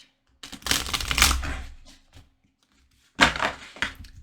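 Tarot cards are shuffled by hand in two bursts of riffling and slapping, the first lasting more than a second and the second shorter after a pause, close and fairly clear with no talk.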